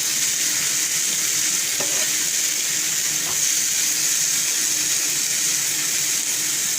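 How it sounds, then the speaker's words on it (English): Chopped tomatoes sauté in a hot pan for an achari methi baingan dish, giving a loud, continuous sizzle with a couple of brief stirring clinks and no talk. "I'm going to be adding the chopped tomatoes. And we saute these for about a minute."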